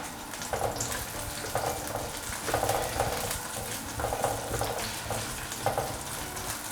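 Ginger and scallion fry in hot oil in a clay pot, a moderate sizzle running throughout with repeated short bursts of crackle as the pieces are stirred, close and without speech.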